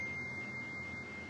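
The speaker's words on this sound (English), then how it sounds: "I keep thinking that's my phone, it's my daughter's phone." A steady, faint electronic tone from a daughter's phone rings on without a break, set against a low background hum.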